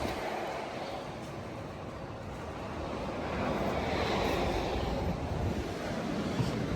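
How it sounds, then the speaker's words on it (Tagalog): Steady seaside wind blowing hard against the microphone, with a constant rushing roar and surf wash underneath that swells slightly louder partway through, no voices. "Mahangin po dito, tabing dagat po mga kabayan."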